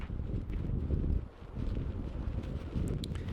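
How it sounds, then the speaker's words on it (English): Stiff wind buffeting outdoors on a disc golf course in Las Vegas, a low rumbling gusty roar that surges and briefly eases, heard alone with no talk. "Looks like we're dealing with a pretty stiff wind"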